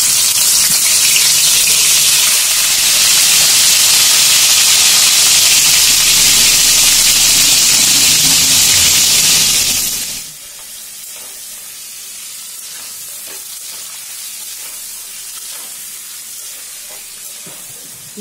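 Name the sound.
chicken pieces frying in oil in a wok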